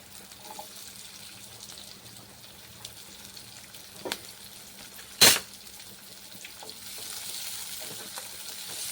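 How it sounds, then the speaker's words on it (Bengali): Large cut onion pieces frying in oil, a faint steady sizzle with scattered soft stirring sounds and one sharp clack partway through. "পেঁয়াজটা একটু ভালো করে ভেজে নিতে হবে।"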